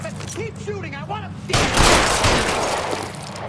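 Gunfire in L.A. Noire, a sudden loud burst of shots that breaks in after a voice, then a crackling spray that fades slowly.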